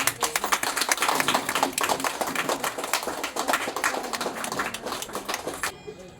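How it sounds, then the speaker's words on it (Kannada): Audience clapping at a birthday charity gathering honouring Smt. Padmamma and Professor Basavaraj, a dense, steady round of many hands that fades out at the end. "ಎಲ್ಲ ಚಪ್ಪಾಳೆ ಹೊಡಿರಿ."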